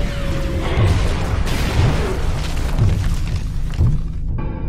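Pyrotechnic explosions during a staged Halo 3: ODST live-action firefight, dense repeated booms and crashes about once a second, loud and continuous, fading into a quieter rumble at the end.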